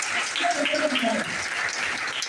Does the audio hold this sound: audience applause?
yes